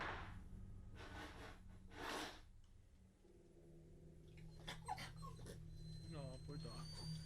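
In a horror video game, a dog gives faint, high whimpers and yips, several short thin cries heard after some breathy rustling, quiet and at middle distance.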